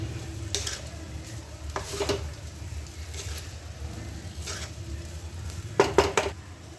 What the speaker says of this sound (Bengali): একটু করে রাইস দেবো এবং নাড়িয়ে দেবো